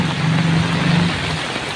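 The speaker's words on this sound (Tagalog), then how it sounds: "walang hintong ulan dito ngayon malakas yan" Steady, dense rain from Storm Carina pouring down hard in Tarlac City, Philippines, a continuous broadband hiss with no pauses.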